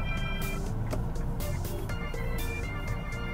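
Car traffic surrounds the listener as a dense, steady roar of engines and tyres, loud and continuous, with the rush swelling and easing as vehicles pass close by.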